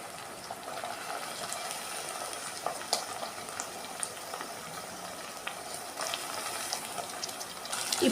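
Ivy gourd curry with ginger-garlic paste being stirred in a pan, a steady close frying crackle with intermittent scraping and clinks of a spoon against the pan, no talking.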